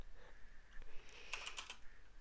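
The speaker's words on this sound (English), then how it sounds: "I'm really good at typing." Quick keystrokes tap on a computer keyboard, faint and close, with a short cluster of clicks and a low background hum.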